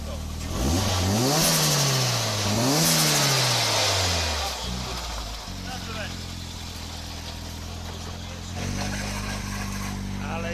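A Toyota Corolla WRC rally car engine fires up loudly and revs in rising and falling sweeps, then settles to a lower, quieter idle, with no one speaking.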